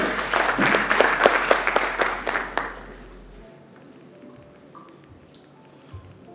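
Applause from the audience at a capital market university challenge awarding ceremony, a burst of clapping for about three seconds that fades into quiet room noise.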